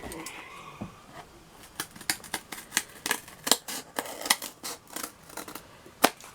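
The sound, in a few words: scissors cutting chipboard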